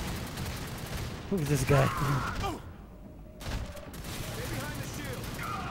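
Bursts of gunfire from the video game Fuse, sounding in rapid volleys at close range over game music and effects, with someone talking during the shooting.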